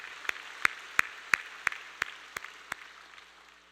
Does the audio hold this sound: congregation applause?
yes